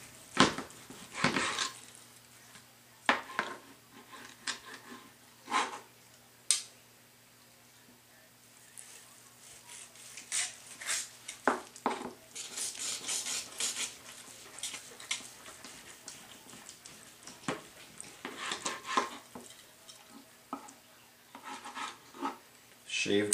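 A knife slices thin shavings from a smoked standing prime rib roast, giving close, intermittent scraping and rasping strokes separated by short pauses.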